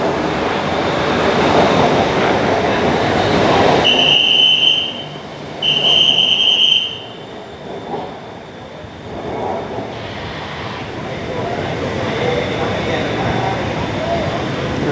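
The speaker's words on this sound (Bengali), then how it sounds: "ডেস্টিনেশনে যে ট্রেন লাইন আসছে বিবিটিএস বিটিএস বিটিএস ধরে" A BTS Skytrain arrives at an elevated Bangkok station with a loud rolling rumble, a high electronic chime or tone sounding twice, and the noise fading toward the end. A person talks faintly in the background.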